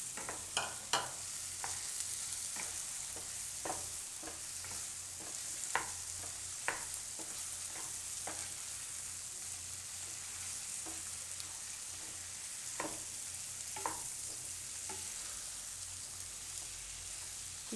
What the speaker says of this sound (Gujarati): અને બટેટા નાખી દઈશું બાફેલા.